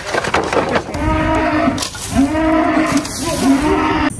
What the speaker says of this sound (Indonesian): Ini sapi teman-teman.